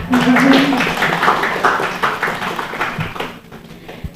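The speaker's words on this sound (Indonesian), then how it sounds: "Tepuk tangannya untuk kita semua." Graduates at a psychology faculty graduation ceremony in Banda Aceh applaud together, a dense wash of clapping that swells at the start and slowly thins out, with voices talking over it.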